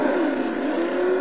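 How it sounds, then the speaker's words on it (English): A Vimac race car with a tuned Porsche engine in the game Total Immersion Racing, holding a steady high-pitched whine at close range with no voices. "the Vimac has a nice engine"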